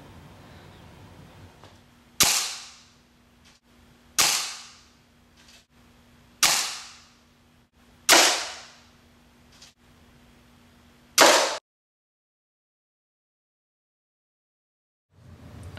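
A Royale 200 air rifle fires during an accuracy test, five sharp, loud cracks spaced about two seconds apart, each with a short fading tail, followed by silence and a faint final sound.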